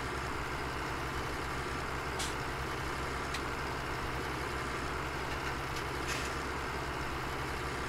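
A John Deere 4760 tractor engine in Farming Simulator 17 idles with a steady low drone, broken by a few faint short hisses.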